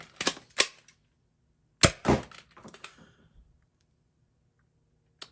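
A foam dart blaster fitted with MeakerArms MEGA XL barrels fires in sharp, close snaps, two quick shots, then a louder burst with rattling follow-up, and a last faint click after a pause.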